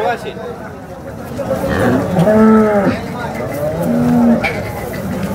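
A cow moos twice in long, drawn-out lowing calls at a busy outdoor cattle market in Sangola, with crowd chatter and voices murmuring around it.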